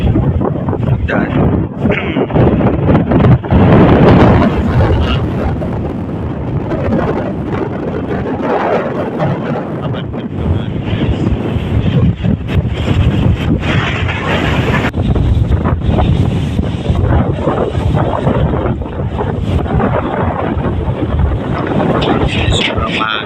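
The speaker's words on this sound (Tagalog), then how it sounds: "Sobrang mahangin ngayon. Oh, sobrang hangin." Strong wind buffets the microphone on a mountain peak, a loud, continuous roaring rumble throughout, with a person talking over it.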